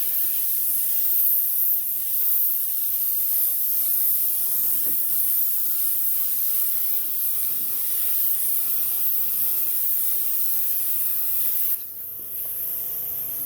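Spray gun applies primer to a Ford Transit van sill with a loud, continuous airy hiss that runs for about twelve seconds, then drops off abruptly and leaves a quieter background.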